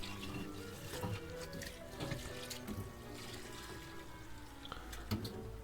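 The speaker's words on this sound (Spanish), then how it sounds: "Ponemos la posición en el programador lo más cerca del final y le damos para que vaya sacando el agua." A washing machine draining water from its drum, heard as a quiet continuous gurgle and trickle with occasional small knocks and clicks.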